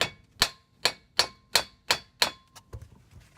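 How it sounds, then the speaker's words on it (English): Six sharp, ringing metallic hammer strikes on the front brake rotor of an old GM 8-lug K-series Chevy/GMC truck, evenly spaced and close, followed by a couple of fainter knocks. "Give it a few more whacks."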